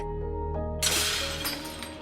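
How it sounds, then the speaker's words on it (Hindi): Dinner-set plates shatter in a loud crash of breaking ceramic, one sudden burst that rings on briefly over steady background music. "बस 12 प्लेट्स टूट गई।"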